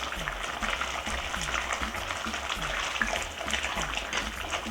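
Cassava oil down simmers in a pot while its liquid cooks down, giving a steady bubbling and sizzling with soft rhythmic pops close by.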